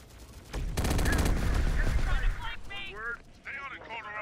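Turrets in Terminator: Dark Fate Defiance open up with a loud, rapid stream of automatic fire lasting about two seconds, then fade under voices and chirpy radio-style electronic tones.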